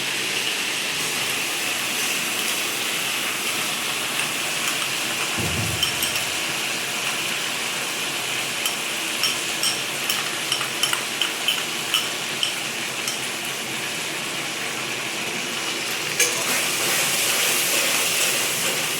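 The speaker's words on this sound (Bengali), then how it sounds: "এবার আমি পেঁয়াজ বাটাটা দিয়ে দিলাম।" Onion paste hits hot oil in a frying pan for a Bengali prawn malai curry, giving a steady broadband sizzling hiss throughout with a brief low thump partway through and no talking.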